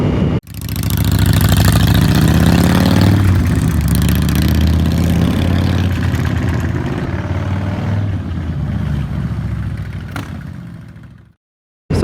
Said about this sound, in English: So we're out on the 2025 Honda Africa Twin Adventure Sports ES 1100L for manual.